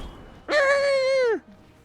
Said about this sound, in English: Ryu's owl has been making that sound